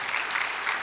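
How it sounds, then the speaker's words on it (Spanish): Congregational applause at a Spanish-language church service during a Bible teaching series on the Book of Romans, a dense steady clatter of many hands with no one speaking over it. "Den un aplauso al Señor Jesucristo"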